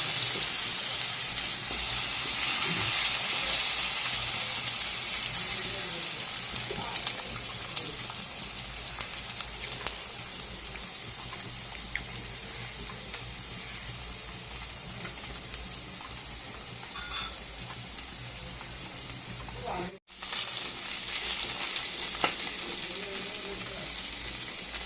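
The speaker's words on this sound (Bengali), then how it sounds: "তেলটা চলে এসেছে, আমি এবার আলুগুলোকে দিয়ে দেবো।" Potatoes for small potato pakora sizzle and crackle in hot oil, a continuous, dense frying hiss heard up close, with a brief dip near the end.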